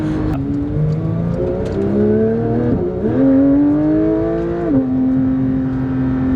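A yellow Honda Civic engine revs loudly and close by, its pitch climbing and dropping through several sustained pulls with no voices over it.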